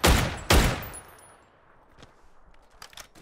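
A Dragunov sniper rifle fires in PUBG: two sharp, loud shots about half a second apart, each followed by a fading echo, then faint scattered clicks.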